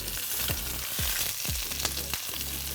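A pot of Asian master stock coming up to the boil gives a steady, close sizzle and bubbling hiss, with a few soft knocks or stirring sounds in between and no talking.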